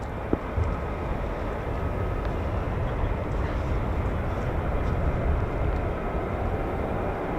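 F-15 and F-35 fighter jets taxi at RAF Lakenheath, a continuous broad roar of engines that holds steady and fairly loud at a distance, with no talking.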